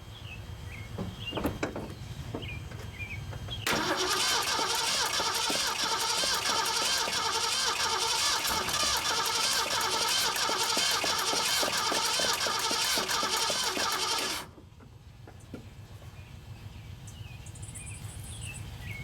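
A 1974 Mercury Comet GT engine cranking on a cold start after sitting for years, a loud steady whirring crank of about eleven seconds that stops abruptly, with insects and birds faint outside before and after.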